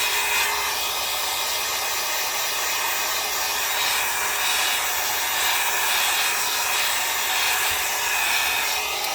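A hair dryer blows steadily with a constant loud whooshing hiss, close by and uninterrupted, with no voices.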